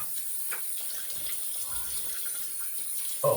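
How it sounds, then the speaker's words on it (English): Tap water runs steadily at a low level as a shaving razor is rinsed under it, a soft continuous splash with a brief louder clatter at the very end. "we're going to give it a rinse"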